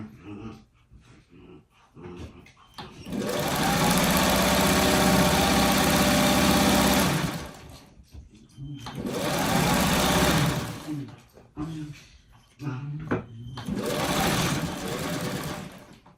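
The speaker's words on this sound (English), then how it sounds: "And then I'm going to sew this together." A sewing machine stitches freeform quilt blocks together in loud, steady bursts of motor whir, with three runs separated by short pauses filled with handling sounds.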